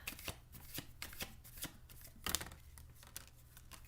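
Tarot cards being shuffled by hand, a quiet, close run of riffling and flicking with a few crisp snaps, no talking.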